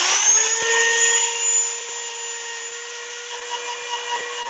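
A wooden three-sided box turning on a lathe while being sanded with 120 grit paper, a steady whirring hum with a continuous abrasive hiss, loud and close throughout.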